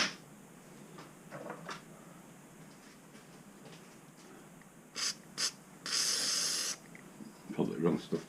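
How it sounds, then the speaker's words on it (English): A spray can of carb cleaner hisses in a quiet workshop: two short bursts, then a longer spray of almost a second, with faint clattering around it. "Good stuff, this carb cleaner."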